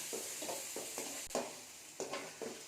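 Paneer pieces fry in a pan until golden, giving a steady close sizzle broken by regular scraping stirs about every half second.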